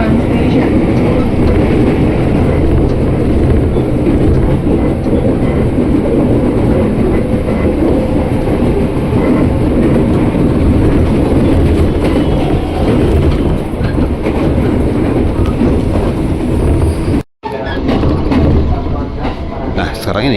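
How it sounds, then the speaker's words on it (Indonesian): A KRL commuter train on the Rangkasbitung line rolls into the three-track Kebayoran station. A loud, continuous rumble of wheels and carriages fills the whole stretch, broken by a single brief dropout near the end, and a voice talks over it. "sekarang ini kita masuk ke stasiun Kebayoran yang terdiri dari 3 jalur"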